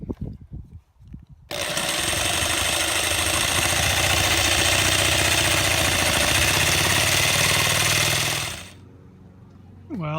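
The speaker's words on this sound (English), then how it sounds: "So I'm going to go with the jigsaw now." Jigsaw sawing through a Class B van's floor with wood reinforcement, a loud, continuous buzzing rasp running about seven seconds before stopping, with handling knocks at the start.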